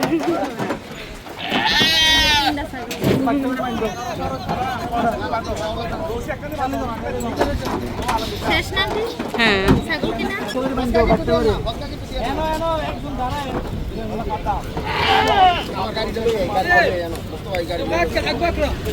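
Goats at a livestock market bleat loudly and repeatedly up close, their wavering cries cutting through a steady babble of people talking nearby.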